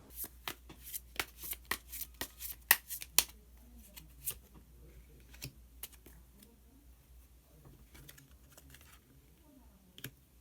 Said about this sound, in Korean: 마지막으로 히든 카드 한 장 더 뽑아보도록 하겠습니다.